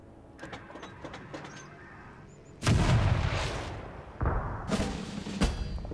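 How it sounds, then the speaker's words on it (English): An artillery strike hits a mortar position in the Total Tank General strategy game. Heavy booming impacts are loud and close, with a sharp first blast, rumbling decay and a second thudding hit, after quieter distant thumps. "Oh, we still have artillery."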